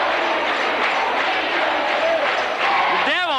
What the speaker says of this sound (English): What an explosion by the crowd.